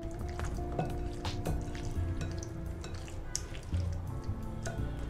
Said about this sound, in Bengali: এখন চিকেনের মধ্যে 1/2 চা চামচ পরিমাণ লবণ দিয়ে মেখে নিব।